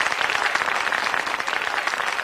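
Steady, dense applause from a studio audience filling a hall at the start of a 1990 French television show, continuous and fairly loud throughout with no voices over it.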